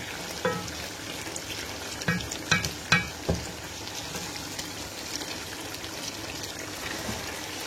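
A blended tomato, pepper, onion and garlic mixture sizzling in a pot as tomato paste is added, with a cluster of sharp clinks and scrapes from stirring midway over a continuous soft fry.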